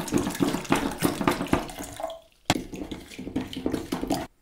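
Water is poured from a tap-like stream into a container holding a distilled water and baking soda mixture, a close, steady splashing trickle that pauses briefly midway and then resumes.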